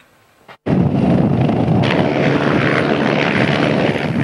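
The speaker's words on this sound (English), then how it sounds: "The EC-135 helicopter took the lead and was followed by the Augusta 109, touching down at the Umar Musa Yaradua International Airport" EC-135 and Augusta 109 helicopters touch down at Umar Musa Yaradua International Airport. After a brief quiet moment a loud, close engine and rotor roar cuts in abruptly and holds steady to the end, with no talking.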